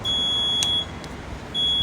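A fall-down alert alarm on a Hero Xtreme 250R motorcycle gives a steady high-pitched electronic beep that cuts in and out, with short pauses between bursts, heard close over a low background rumble.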